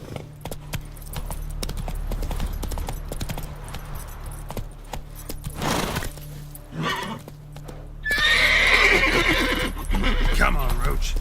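Roach, a horse in The Witcher 3, neighs loudly and gallops with clattering hooves as a voice urges her on, the hoofbeats and whinny growing louder and busier toward the end.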